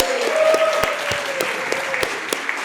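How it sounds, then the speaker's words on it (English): A live show audience claps loudly in a dense, steady burst with a few whoops and sharp claps standing out, fading slightly toward the end. "Let's give her a big round of applause and some whoops."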